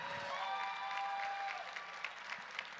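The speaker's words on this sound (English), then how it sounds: "Give them a round of applause." Steady applause from a crowd at a college national championship session, honoring the medalists; dense, continuous clapping with faint cheering tones, fairly distant and even throughout.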